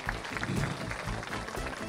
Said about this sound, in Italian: Un applauso a Jeffrey che è...